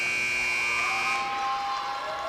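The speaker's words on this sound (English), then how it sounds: "I thought the buzzer was going off" A basketball game buzzer at a high school matchup sounds loudly and steadily for over two seconds, a continuous electronic drone filling the gym.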